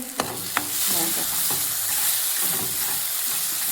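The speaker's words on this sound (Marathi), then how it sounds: "मस्तपैकी चांगला फ्राय झालेला आहे" Masala with green chillies fries in a pan for a spicy sprouted moth bean curry, a steady close sizzle under the stirring, with a few clacks and scrapes of a spoon early on.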